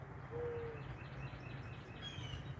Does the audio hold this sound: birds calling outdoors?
yes